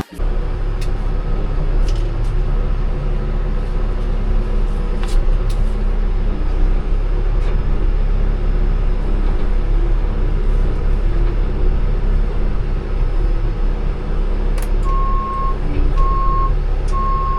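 A heavy transport truck loaded with goods rumbles steadily with a low engine drone, and intermittent beeps and clanks sound over it, with no talking.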